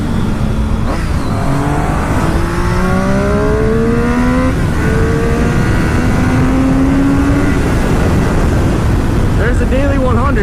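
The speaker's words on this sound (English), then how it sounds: "let's go head out and do some pulls on the Triumph Daytona" A Triumph Daytona motorcycle pulls hard from close by, its engine note climbing through several gears with rising whines and shifts, loud and steady over constant wind noise.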